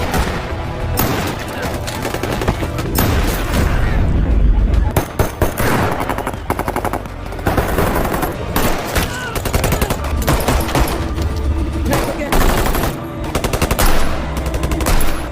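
Heavy gunfire from a bank robbery shootout in the film 21 Bridges, with loud, rapid automatic bursts and booming shots hammering almost continuously, close and intense.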